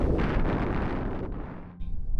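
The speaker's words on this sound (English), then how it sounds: "Huge gust of wind, like the one that took my hat." A huge gust of wind roars through an outdoor Utah campsite, loud and blustery against the microphone, then eases off briefly before a final buffeting surge.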